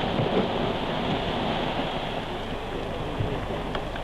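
The wooden boat Lilly sliding off its slipway into Lake Vänern, a broad continuous rush and splash of water, loud and steady throughout with no voices.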